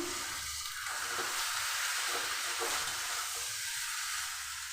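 Boiled chana dal goes into hot oil and fried spices, giving a continuous soft sizzle and hiss from a close pan with light stirring.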